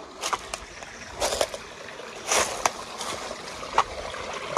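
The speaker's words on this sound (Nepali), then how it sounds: "खोला" Stream water flowing and trickling along a riverbank during a crab-hunting outing, a steady wash with scattered splashes and sloshes nearby, no voices.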